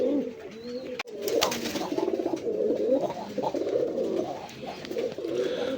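Pigeons at a pigeon farm coo in a steady overlapping chorus, with throaty, rolling calls repeating close by, briefly interrupted by a sharp knock near the start.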